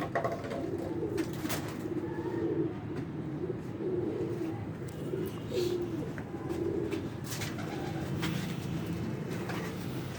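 Pigeons coo softly in a loft, a repeated low throaty burbling that comes and goes in short phrases over a steady background hum, with occasional faint clicks and rustles.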